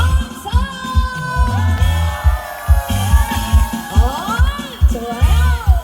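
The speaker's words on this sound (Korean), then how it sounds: "함성!" Festival crowd at a town-gate celebration cheering, yelling and whooping in loud continuous bursts, with sustained shouts rising and falling over a rhythmic low stage music beat.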